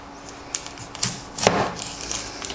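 A knife cuts through an onion on a cutting board while preparing chicken fricassée, producing a handful of sharp, close taps and crisp slicing clicks spaced irregularly across a quiet kitchen.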